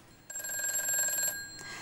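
A telephone rings once in a studio during a televised stock-trading call-in show, a single sustained electronic ring of about one second, fairly faint and with no talk.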